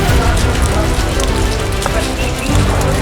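Heavy rain pours steadily in Jammu and Kashmir, a loud dense hiss with close spattering drops that continues without a break.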